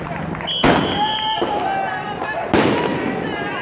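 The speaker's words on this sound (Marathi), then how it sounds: "मग काय रात्री पुन्हा 12 वाजता आम्ही फटाके फोडलेत कॉलेजच्या बाहेर।" Firecrackers burst at midnight outside an engineering college in Sambhajinagar, with two sharp loud cracks followed by crackling and whistling tails, a crowd faintly audible behind.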